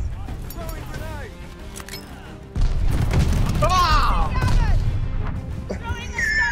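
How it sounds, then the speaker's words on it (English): Grenade explosion in Call of Duty: Vanguard search and destroy, a sudden loud boom midway that leaves a sustained rumble, mixed with game sounds and a person talking over it. "Throwing grenade."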